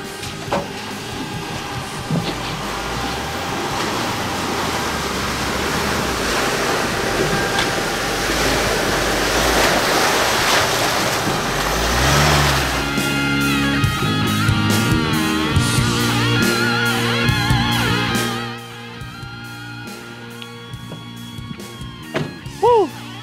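A Mitsubishi Triton 4x4 double-cab pickup ploughs through water at higher speed, a long rushing splash and churning wash over a droning engine that fades into lighter sloshing and dripping near the end.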